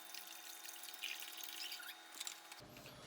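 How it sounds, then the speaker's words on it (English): Seafood broth is poured into a barely simmering pot, a steady splashing liquid stream lasting about two and a half seconds before stopping abruptly. "we're gonna add the seafood broth"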